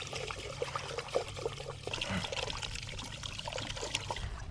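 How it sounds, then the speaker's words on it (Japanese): Rice being rinsed in seawater at a beach camp on an uninhabited island, with close, steady pouring and trickling water and small sloshes running throughout. "で海水で米洗います"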